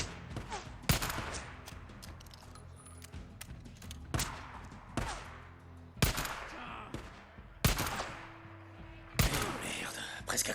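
Heavy gunfire in the video game Days Gone, with loud single shots from a powerful gun spaced a second or two apart, each ringing out sharply over a quieter game background.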